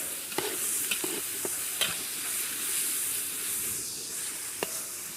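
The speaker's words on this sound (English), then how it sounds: "Then some garam masala. Stir all those around." Garam masala and spices frying in a pan while being stirred, with a steady sizzle and a few sharp scrapes and clinks of the spoon against the pan; no talking.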